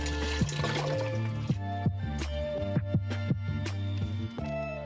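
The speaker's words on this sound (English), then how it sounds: "Let's go ahead and add our 1 quart of vegetable broth" Vegetable broth poured into a pot, a steady liquid stream with glugging, bubbly splashes close by under faint background music.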